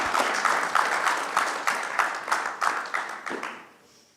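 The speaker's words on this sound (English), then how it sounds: "let's have a round of applause for our panelists" Conference audience applauding panelists at a decentralised science event, dense, moderately close clapping from a crowd, rhythmically swelling before fading out at the end.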